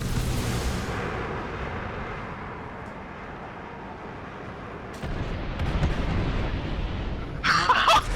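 A video game's five missiles launch and explode as a continuous rumbling roar of blasts, swelling again in a louder burst near the end.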